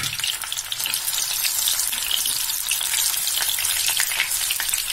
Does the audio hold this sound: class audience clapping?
no